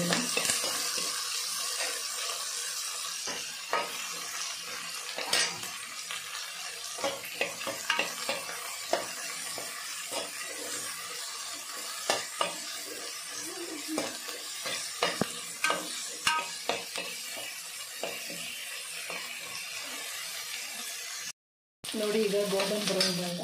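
Onions frying in a pan until golden brown for millet bisibelebath, a steady close sizzle broken by frequent scraping stirs and clinks, with a brief gap near the end.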